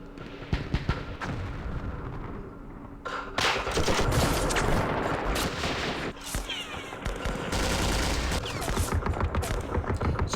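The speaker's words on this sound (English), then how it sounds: "Let's do some firing with our machine guns and light mortars here." Machine gun and light mortar fire in the Vietnam war game Campaign Series Vietnam, Dien Bien Phu scenario: rapid bursts of gunfire and repeated blasts, loud and dense across the clip without speech.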